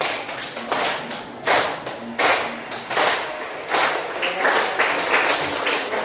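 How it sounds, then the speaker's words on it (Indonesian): A classroom group claps hands in several loose bursts, sharp uneven slaps bunching into short rounds with brief gaps between, moderately loud and close, with no talking over it. "Ya, tepuk tangan."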